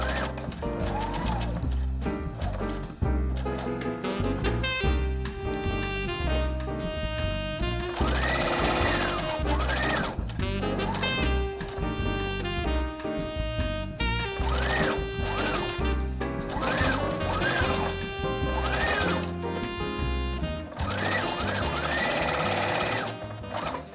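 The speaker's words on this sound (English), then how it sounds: "now I'll go ahead and top stitch all the way around" A sewing machine top stitches around a pressed patchwork Christmas tree ornament in steady rapid bursts, its needle chattering in a fast mechanical rhythm with brief pauses between runs, close and clear.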